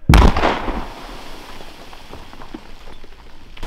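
An explosive charge blasts a large ice carousel free on a frozen lake: one sharp, loud boom, then a scattered pattering of falling ice and water debris that fades over a few seconds.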